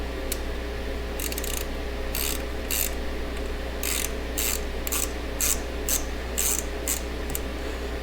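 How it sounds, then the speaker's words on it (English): A ratcheting box wrench works a bolt on a Subaru engine, giving repeated short bursts of fine clicking in uneven groups over a steady low hum, close and fairly quiet. "Ratcheting box wrenches are extremely helpful in situations like this."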